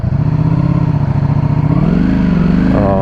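A 2023 Ducati Streetfighter V4 engine revs hard and close, its loud, throbbing note climbing in pitch as the bike accelerates, with no talking.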